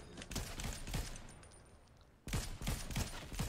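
Rapid gunfire in a video game, bursts of repeated shots up close, briefly dropping to quieter background before resuming.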